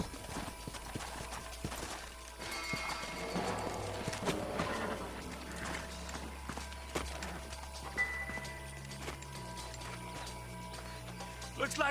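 Horse hooves clip-clop steadily at a walk in the video game Red Dead Redemption, with scattered thuds and clatter around them; no one speaks.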